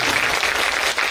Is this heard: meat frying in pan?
no